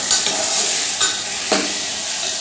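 Potato and vegetable curry frying steadily in a pan, with a loud continuous sizzle and stirring strokes, no talk.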